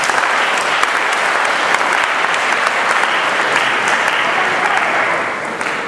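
An audience at a vocal solo concert applauds warmly, dense sustained clapping filling the hall loudly and evenly, tapering slightly at the end.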